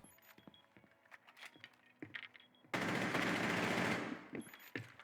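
Rapid automatic gunfire in a video game, shot through a wall at opponents, bursts out as one dense sustained volley of about a second and a half, loud against quieter scattered game sounds and clicks before and after.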